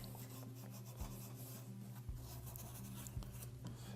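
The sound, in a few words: abrasive pad scrubbing a reloading press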